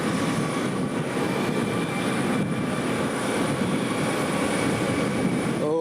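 A KLM airliner's engines roar steadily at Manchester Airport, a loud, continuous rumble with a high whine that fills the whole stretch without a pause.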